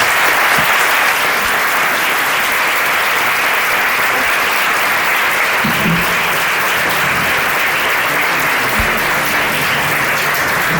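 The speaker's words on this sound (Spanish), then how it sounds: "Demos un fuerte aplauso a Susi Sánchez." An audience at a tribute to Susi Sánchez breaks into loud, sustained applause, a thick continuous wash of clapping with a few louder knocks near the end.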